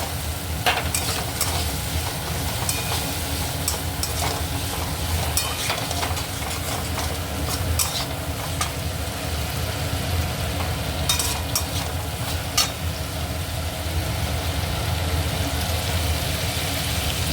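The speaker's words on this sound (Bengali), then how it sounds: "এবার ফুলকপিগুলো দিয়ে দেবো কপিগুলো দিয়ে আর একটু কষি" Cauliflower florets sautéed in a pan of nearly cooked spice paste for a Bengali-style curry give a steady, close sizzle with scraping stir strokes throughout and no talking.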